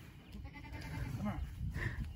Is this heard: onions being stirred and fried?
no